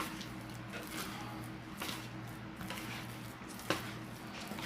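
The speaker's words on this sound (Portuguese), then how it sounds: "Agora eu vou acabar de misturar aqui, acabar de sovar essa massinha, né?" Whole wheat bread dough is kneaded and mixed by hand, giving soft wet squishing and slapping sounds in a continuous textured run with an occasional sharper slap.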